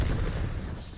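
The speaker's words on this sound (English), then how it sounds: "Rocket." Rocket blast in a combat video game, heard as a continuous low rumbling boom filling the whole second, dense and loud in the bass with broadband crackle above.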